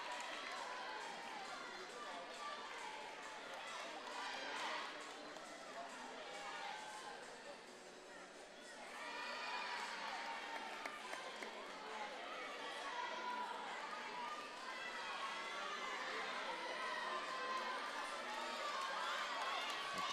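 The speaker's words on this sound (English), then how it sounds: "Her teammates are cheering her on." Gymnastics teammates cheer on a competitor during a collegiate meet, a distant arena crowd murmur with scattered shouts and applause while a commentator talks over it.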